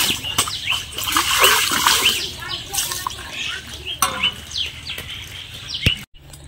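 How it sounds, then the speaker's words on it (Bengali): Small river fish, mourola, are rubbed and rinsed by hand in water, giving sloshing, splashing swirls with occasional sharp drips, while birds chirp faintly outdoors in the background. "এখন এখানে ঘষে ঘষে মাছগুলো ধুয়ে নেব।"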